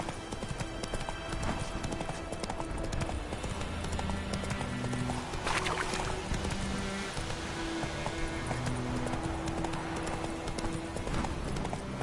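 In a PS4 video game, a horse's hooves clip-clop in a steady rhythm under rain-like ambience, with faint snorts and whinnies mixed in.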